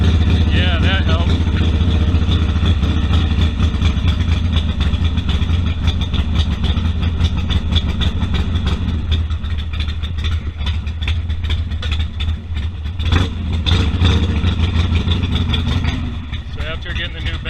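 A Harley-Davidson Sportster engine idles steadily after the choke is applied, a loud continuous low rumble that holds throughout with only small dips in level.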